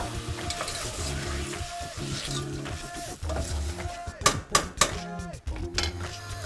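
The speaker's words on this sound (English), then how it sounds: "I'll just stir it" A spoon scrapes and clinks against a pot while chicken with turmeric and saffron sizzles, with repeated stirring strokes and sharper metallic knocks near the end, close and clear with no speech.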